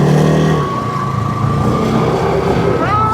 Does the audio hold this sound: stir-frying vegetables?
no